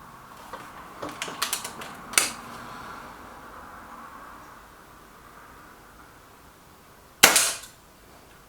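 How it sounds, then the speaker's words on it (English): A Reximex Myth air rifle in a target-shooting match: a quick cluster of small mechanical clicks, then after a quiet pause one sharp, close crack. "5 shots."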